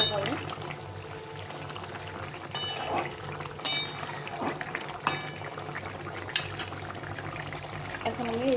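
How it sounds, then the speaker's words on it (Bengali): Fish curry with taro bubbles and simmers in a pot, a soft wet boiling hiss broken by occasional clinks and stirring sounds, with no talking. "ঝোলটা ফুটে গেছে, দেখো সুন্দরভাবে।"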